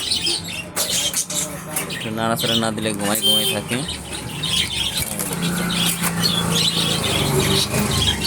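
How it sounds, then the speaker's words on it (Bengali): Loud squawks and harsh calls from caged birds with wing flapping, over a steady background of talking. "নিচে যে এক কালারের অরেঞ্জ কালারের 2টা পাখি আছে"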